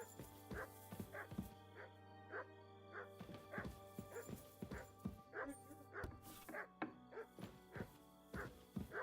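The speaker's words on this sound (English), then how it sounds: "yo, my dog's barking." A pet dog barks and yips repeatedly indoors, short sharp woofs in an uneven rhythm with some whimpering, heard at moderate distance while people talk faintly in the background.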